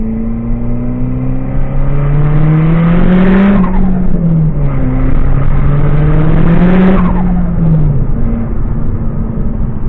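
A Scion tC engine, run without a hood, revs hard with the clutch slipping in third gear; a loud, close drone rises and falls in pitch twice, surging and sagging as it climbs without gaining speed.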